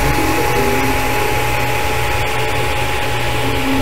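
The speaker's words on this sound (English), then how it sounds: "you're hearing the harmonics in the 3D printer. You're also getting a resonance frequency in there." A 3D printer runs with a steady, loud, droning whir full of harmonic hum and resonant buzz, continuous and close with no talk.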